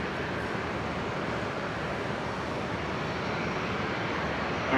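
An airliner takes off from runway 01 left at Brisbane International Airport, producing a steady, broad jet roar that holds at an even level throughout, with no voices.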